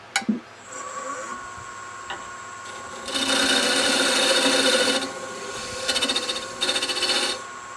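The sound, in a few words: lathe turning down a spigot for a buffer wheel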